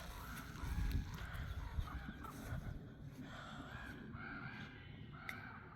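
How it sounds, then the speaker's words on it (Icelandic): Crows caw repeatedly in a garden, harsh overlapping calls at a middle distance over a rumbling, windy background. "Krákuþing hérna eins og heyrist."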